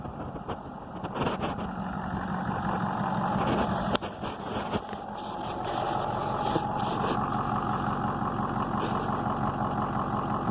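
A 6.0 diesel service truck engine idling close by, a continuous rough, clattering rumble with a few brief knocks and clicks over it.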